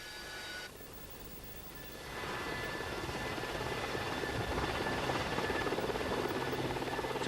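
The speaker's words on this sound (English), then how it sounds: "Sea King airborne early warning helicopters, landing with their radar equipment folded back" A Sea King airborne early warning helicopter's rotor and engine roar steadily as it comes in to land, swelling louder after a couple of seconds as it draws closer, a dense continuous thrum with no voices.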